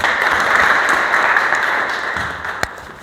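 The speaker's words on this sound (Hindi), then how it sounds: "बहुत जोरदार तालियां एक बारी।" Applause from an audience at a Safety Day program, a steady wash of many hands clapping together, moderately loud and sustained across the stretch with one sharper clap standing out near the end.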